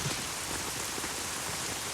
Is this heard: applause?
no